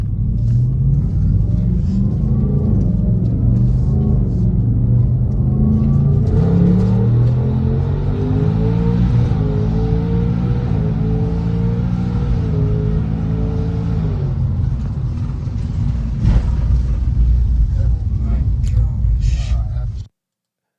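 Twin-turbo Ford F150 pickup on regular tires accelerating hard at full throttle, a loud close engine roar with rising pitch sweeps as it climbs through the gears, then cutting off abruptly at the end.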